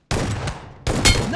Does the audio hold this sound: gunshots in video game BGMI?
yes